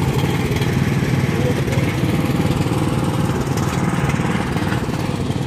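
Riding lawnmowers at a family tractor-pull day produce a loud, steady, buzzing engine rumble that runs close and continuous without a break.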